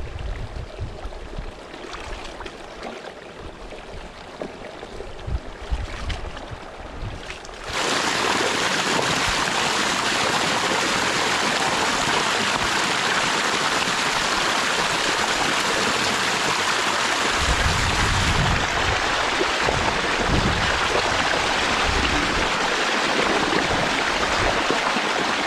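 Water gushes steadily through a channel as a bean field is drained, first a softer trickle, then a sudden loud, continuous rush that holds at full strength to the end.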